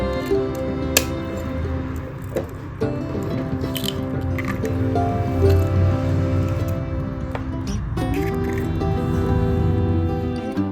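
An egg cracked into a raw chicken mixture with chopped gondhoraj lime leaves: a few sharp shell taps and clicks, then soft wet squishing and dripping close by, with brief clinks in between.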